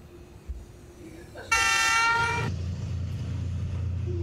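A train horn blasts loudly for about a second, then the low, steady rumble of a train passing along a Hanoi train street carries on close by.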